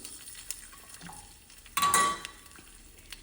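Garlic and asafoetida hitting hot oil in a pan for a gongura dish, a sudden loud sizzle burst that fades, framed by light clinks and stirring of a utensil against the pan.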